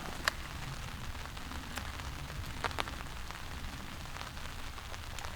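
Rain falls on a forest shelter made without a tent as a steady, dense hiss. Scattered sharper drop impacts stand out against the constant wash.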